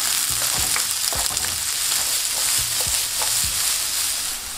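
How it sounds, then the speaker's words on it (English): Onions frying in hot oil over medium heat, a steady bright sizzle with soft stirring scrapes and clicks mixed in, close and continuous, no talking. "In some hot oil, throw in some onions."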